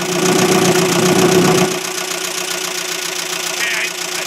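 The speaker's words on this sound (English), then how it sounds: "Let's see if she starts back up." A 2002 Sunfire 2.2 engine, previously run without oil, runs with a rough, knocking mid-pitched drone that drops to a thinner, quieter idle partway through, close and alone.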